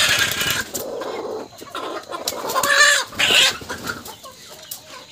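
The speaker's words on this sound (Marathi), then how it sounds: "ही मोठी कोंबडी आहे मित्रांनो, बघू शकता खुडक झाले, उचलून टाकलं तरी उठत नाही आहे।" A broody hen clucks close up in a farmyard with low, throaty bursts and sharper calls that come in uneven spurts, with other chickens mixed in and no voices over them.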